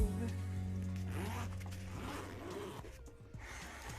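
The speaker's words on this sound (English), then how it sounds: "You guys can listen to me zip and unzip things." A zipper is zipped and unzipped several times in quick rasping strokes close to the microphone, with faint breathy voice sounds underneath.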